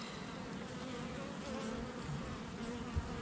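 Honeybees buzzing at a hive where dead, mite-infested larvae are being pulled out, a dense continuous drone, close and steady for the whole stretch with no voices.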